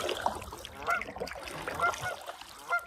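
Goose honking near a nest at a campsite by a lake on a canoe trip: several short nasal honks spaced across the stretch, moderately close, with other faint outdoor sounds between them.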